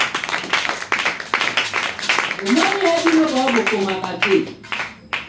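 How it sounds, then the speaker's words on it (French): Rhythmic clapping from a congregation at a Sunday church service, many hands beating together while voices sing and shout over the claps. "applaudissons pour le Seigneur la foi"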